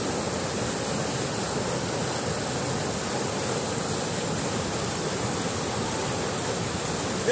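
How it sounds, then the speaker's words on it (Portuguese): Water from the São Francisco River transposition running through a creek, a steady broadband rushing flow that stays even and close throughout, with no voices. "Aqui são águas da transposição do Rio São Francisco."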